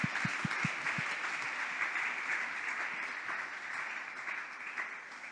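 A church congregation claps hands for Jesus, a few distinct sharp claps at first giving way to sustained, fairly distant applause with a faint murmur of voices underneath.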